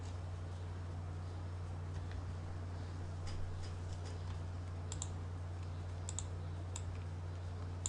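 Several faint mouse clicks, including quick double clicks, come from a computer running Advance Steel software. Short, sparse ticks sit over a steady low electrical hum, with no talking.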